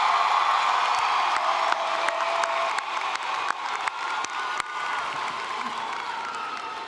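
Applause and cheering from a large crowd at a Lamar University College of Arts & Sciences commencement in May 2016, sustained clapping with scattered whoops in a big hall.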